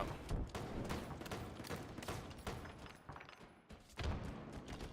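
Rapid gunfire bursts from a Halo ranked match in Diamond rank, a dense run of repeated shots and thuds with brief pauses, loud and close throughout.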